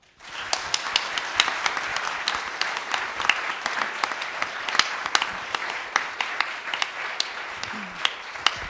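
Audience applause welcoming a speaker at a book launch and discussion event, a steady wash of many hands clapping that carries on for several seconds at an even level with no talking over it.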